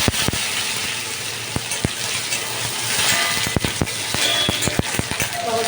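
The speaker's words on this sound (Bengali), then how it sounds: "এবার আমি একটু টমেটো দিয়ে দিলাম।" Tomato added to a pan of hot oil with fried cumin seeds, giving a steady close sizzle with scattered sharp pops and clicks throughout, no talk.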